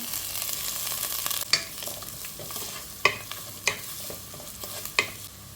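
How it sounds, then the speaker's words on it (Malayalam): Chopped onions sizzle steadily in a pan as grated coconut is added and stirred in, a continuous close frying hiss broken by several sharp scraping knocks of the spoon against the pan. "ഇട്ട് കൊടുത്ത ഉള്ളിയും എല്ലാം ഇതുപോലെ നല്ലതായിട്ടൊന്ന് മൂത്ത് വരുന്നുണ്ട് നമുക്ക് ബാക്കി എടുത്ത് വെച്ചിരിക്കുന്ന തേങ്ങ ഉണ്ടല്ലോ അതുകൂടി ഇട്ട് കൊടുക്കാം"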